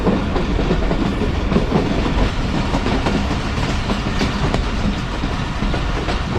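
The 40DN Jaffar Express rolls along the rails with a loud, steady roar and rumble from inside the carriage, faint rhythmic clatter threaded through the constant din, no voices.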